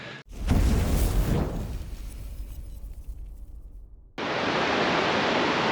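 Surf on Swansea Beach in the early morning washes in as a broad hiss, a wave breaking and fading over several seconds before a fresh steady rush of water swells up again.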